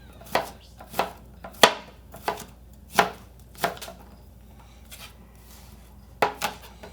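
About a third of an onion is chopped by hand with a knife on a board, giving a series of crisp, irregular close-up chops with short pauses between them, and no talking.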